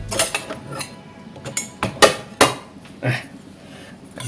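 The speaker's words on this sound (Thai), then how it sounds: "เดี๋ยวหาถ้วยหาช้อนก่อน" A bowl and spoon clink and clatter as they are picked up and set down, several sharp ceramic-and-metal knocks at uneven intervals, close and fairly loud, with no talking.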